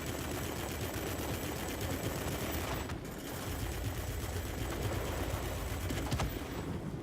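An XF5U aircraft's machine guns fire in a flight combat game, a continuous rapid rattle of gunfire lasting several seconds with a brief break partway through, steady and fairly loud throughout.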